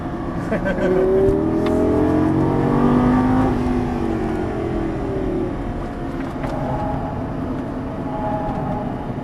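A Lamborghini Gallardo LP550 drives a lap on a racing track, its engine revving up and down through gear changes from inside the cabin, with some talking early on.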